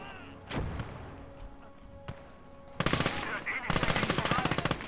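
Video game gunfire in Close Combat, a WWII Russian front battle: a few scattered shots, then two loud sustained machine-gun bursts of rapid rattling fire.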